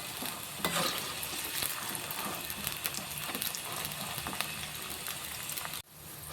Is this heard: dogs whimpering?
no